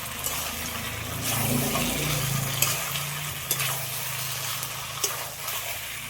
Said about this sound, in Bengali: সবগুলো একসাথে ভালো করে একটু কষিয়ে নিই